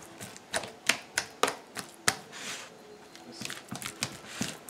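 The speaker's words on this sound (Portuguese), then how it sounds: "Chico, a abóbora é tão boa que é pesada pra amassar" Cooked pumpkin is mashed by hand for Piauí-style caruru, with close, sharp knocking strokes in a quick uneven rhythm, about a dozen distinct hits followed by softer scraping and patting.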